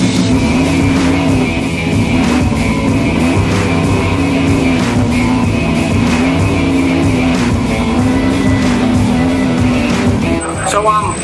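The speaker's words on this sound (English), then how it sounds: "What we have here is our Mazda 6 race car. It's a 3-rotor, single Garrett turbo." A 3-rotor single Garrett turbo Mazda drag race car at a dragway, with a loud continuous engine drone and pulsing tones close by, a brief squeal near the end, and someone talking over the noise.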